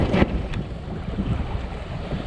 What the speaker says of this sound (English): that was a major shift of wind there